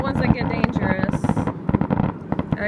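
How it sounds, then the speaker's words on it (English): Fireworks crackle and pop at the beach in a fast irregular string of sharp bursts, close and loud, with voices talking and wind buffeting the microphone. "catch your freaking fireworks before they blow somebody's head off"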